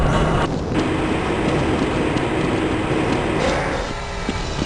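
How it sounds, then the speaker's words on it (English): A Black Mesa tram in the game Half-Life: Blue Shift rolls along its track with a loud, continuous, broadband rumble and mechanical rattle that stays steady throughout and eases slightly near the end. "This train is inbound from the Area 8 topside dormitories to the Central Transit Hub in Area 9."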